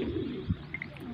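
Pigeons kept by a fancier coo in a low, soft burst amid a steady murmur of birds close by, with no talk.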